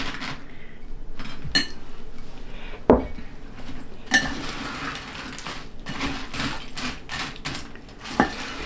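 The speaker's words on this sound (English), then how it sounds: "Just kind of get that stirred in a little bit" A spoon clinks and scrapes against a bowl while freeze-dried fruit and nuts are stirred into a mix, giving irregular knocks and rattles at close range.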